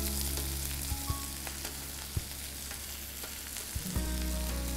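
Potatoes and fenugreek leaves fry in a pan with a steady, close sizzle, punctuated by a few sharp clicks and scrapes of stirring.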